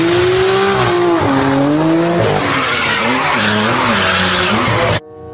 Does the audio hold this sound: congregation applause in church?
no